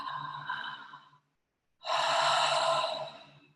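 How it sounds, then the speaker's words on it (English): Breathy mouth exhalations during a guided breathing exercise: one airy breath trails off, a short silence follows, then a second, stronger exhale that fades at the end. "Exhale through the mouth."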